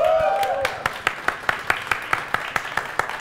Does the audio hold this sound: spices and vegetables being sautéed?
no